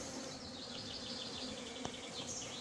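A dense, steady hum of many honeybees buzzing close by as a swarm is hived, with a faint high whine layered over the drone and one brief sharp click.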